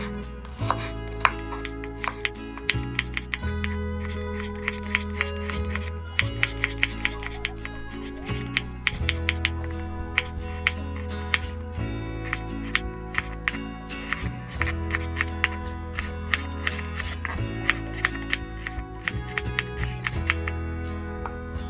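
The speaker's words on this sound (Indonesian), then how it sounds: "Untuk bawang merah dan bawang putihnya kita iris tipis-tipis aja ya teman-teman." A knife thinly slicing shallots and garlic on a cutting board, producing quick, steady chopping taps that repeat in tight runs with short breaks, close and clear.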